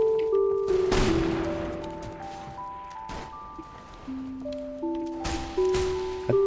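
Gunfire in a shooter video game, with a few loud sharp shots over a steady noisy battlefield backdrop and sustained tonal game sounds, with no voices.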